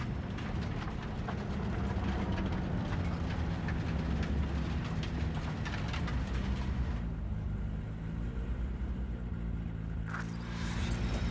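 A train rumbles past with rolling clatter in the Cyberpunk 2077 video game, a steady loud mechanical roar that cuts off abruptly partway through, leaving quieter ambience.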